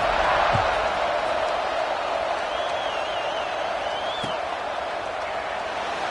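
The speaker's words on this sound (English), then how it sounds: "this crowd is buzzing after that last score" Steady broad murmur of a football stadium crowd during a game, a continuous roar filling the space at moderate loudness with no distinct cheers standing out, plus a faint whistle-like tone partway through.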